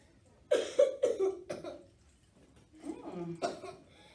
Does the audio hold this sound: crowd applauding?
no